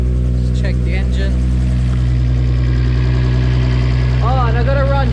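A car engine with a forged RB25DET running on E85 idles steadily with a loud, constant low rumble throughout, while a voice briefly sounds over it.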